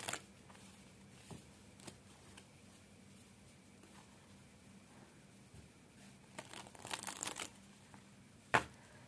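Tarot cards shuffled by hand, giving soft intermittent riffling and crinkling rustles with a sharper snap near the end, fairly quiet and with no talking.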